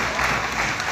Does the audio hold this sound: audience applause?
yes